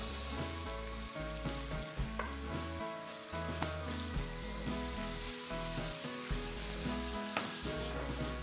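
Curry spices fry with a little salt in a pan, giving a steady close sizzle broken by occasional clinks and scrapes from stirring.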